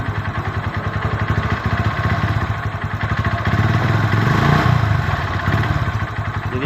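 Honda CB motorcycle engine idling with a faulty spark plug cap, a steady rough, uneven putter with clattery pulses, loud and close, rising slightly in the middle, with no talking.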